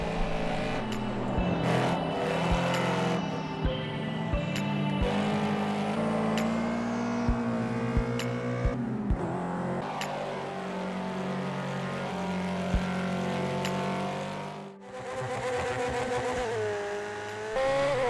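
A McLaren 570S road car in the video game Project Cars 2 drives with a steady, loud engine drone that rises and falls through gear changes, with a brief dip before resuming, and no talk.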